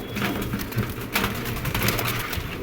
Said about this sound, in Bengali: এই যে পুরা একটা ঝাঁক কবুতর